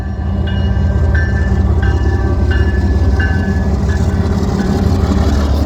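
A Kansas City Southern freight train rolls past close by with a loud, steady rumble, with repeated metallic squeals from the wheels riding over the din.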